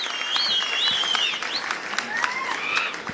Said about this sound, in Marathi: जोरांचा टाळ्यांचा कडकडाट झाला पाहिजे.